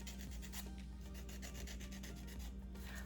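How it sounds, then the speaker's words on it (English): An emery board files the edges of gel nails in fast, even rasping strokes, close up and fairly soft, with no one talking. "Then I go to this emery board just to make sure the edges are nice and smooth."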